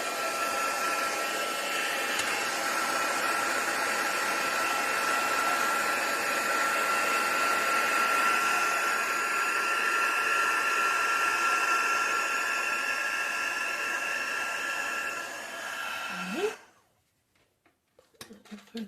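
Heat tool blowing steadily over wet mixed media art, a loud continuous whirring roar held for about sixteen seconds before it abruptly cuts off, leaving faint handling clicks.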